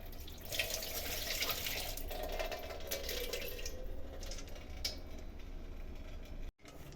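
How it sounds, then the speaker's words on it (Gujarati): Water pours and splashes steadily into a sink as soaked, washed moong dal is drained, a continuous rushing flow with occasional clinks, briefly cut off near the end. "પાણી કાઢી નાખવાનું"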